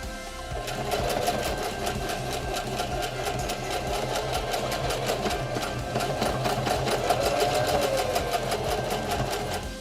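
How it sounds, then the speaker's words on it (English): A Singer Denim HD6335M sewing machine hems jeans in a steady, rapid, evenly pulsing run of stitches, close and continuous from start to finish with no talking. "When you sew your jeans hems, make sure you just slow down a little bit when you do these."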